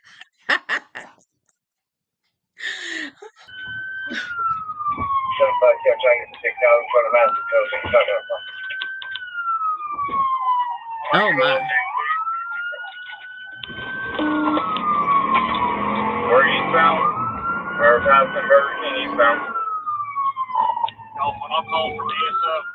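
A wailing police siren rises and falls continuously close by, over engine and road noise, while people talk excitedly through it during Hurricane Ian cleanup in Florida.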